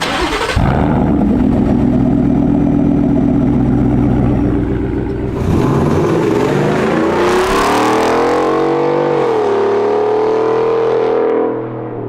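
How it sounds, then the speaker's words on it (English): A 400-horsepower work truck cranks over and fires up, its loud exhaust rumbling at idle, then revving and pulling away as it drives off, heavy and close throughout. "So yeah, we'll start it up and we'll go"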